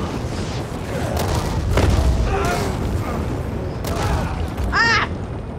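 An explosion in the video game Dying Light 2 sets off a couple of booming blasts, the loudest near the start and another at the end, with a voice talking over the gameplay.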